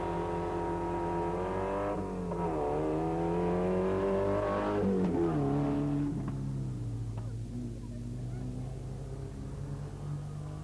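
A rally car engine with a rough, harsh-sounding manifold drones and revs at the 1981 Circuit of Ireland, its pitch rising and falling steadily for about ten seconds without any talk.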